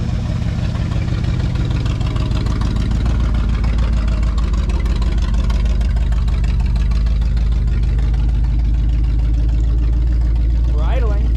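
A 1979 Ford F150 engine idles after a tune-up with a steady, loud, low rumble that holds throughout, fairly close, while a person speaks briefly over it.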